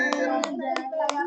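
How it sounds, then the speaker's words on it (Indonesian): A class claps for a student after his drama monologue, giving four distinct hand claps in an even rhythm over a steady hum of background voices. "Ekspresinya tepuk tangan buat Zahir."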